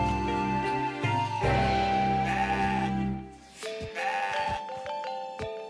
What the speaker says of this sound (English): I think in order to get at that goat, I have to go around this way.